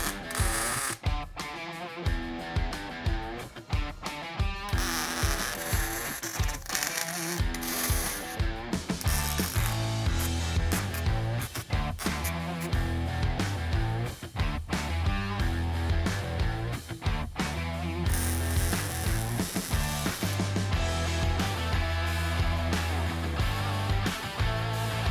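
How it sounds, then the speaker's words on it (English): Welding steel tabs onto a stair rail on site produces a dense, continuous crackling and buzzing, loud and steady with irregular sputtering pulses, and no talk over it. "Time to weld"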